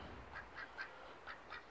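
A farmyard duck on a homestead gives a series of five short quacks spaced unevenly, moderately close against a quiet outdoor background.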